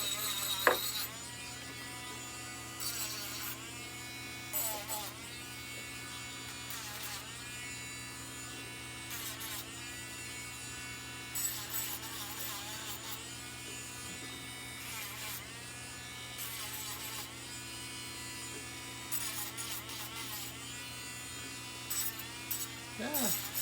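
A small rotary power tool deburring drilled holes in a spoon bracelet gives a continuous high buzzing whine with repeated short bursts of grinding contact, while people talk quietly.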